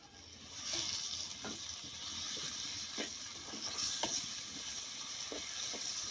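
Chopped chibbar, a wild cucumber, fries with spices in a pan: a steady, close sizzle runs throughout, broken by a scattering of light scraping clinks as the mixture is stirred.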